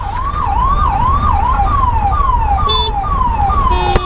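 Ambulance siren wailing in rising and falling sweeps in heavy Bengaluru traffic, loud and close, with a steady rumble of engines beneath and a brief horn near the end.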